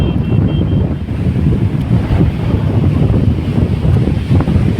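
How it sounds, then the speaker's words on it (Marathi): Strong wind on Arnala Beach at Virar buffets the microphone in a loud, continuous low roar, with the surf faintly mixed in. "वारा वगैरे पण खूप आहे मित्रांनो बीचवर"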